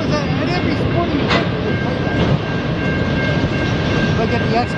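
Evening rush-hour train rolling past in St-Henri, Montreal: a steady, loud rumble of railcars with clattering wheels and a sustained metallic tone, continuous throughout.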